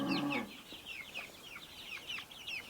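A flock of chickens on a farm with 83 birds, hens and roosters of many colors, cluck and chatter in a busy overlapping chorus, with one louder, close call right at the start.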